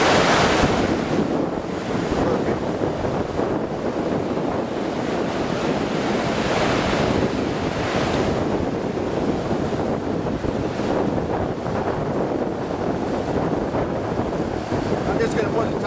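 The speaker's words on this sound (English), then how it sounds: "As far as I know, it's an unnamed falls right here in Wabakimi." Water rushes steadily over an unnamed falls on the Allen Water River in the Wabakimi wilderness, a broad continuous roar mixed with gusting wind on the microphone.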